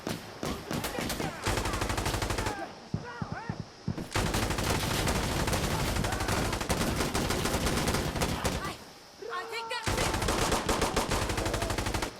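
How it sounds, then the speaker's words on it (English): Pistol-match firefight in the video game Insurgency Sandstorm: loud, dense bursts of rapid gunfire and machine-gun fire with brief lulls between volleys, voices chattering underneath. "There's so much shooting going on around us."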